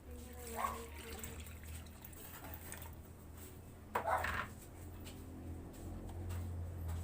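About 450 grams of water is poured into a Spanish bread dough mixture, giving a faint, soft trickle and splash with a brief louder burst near the middle over low background hum.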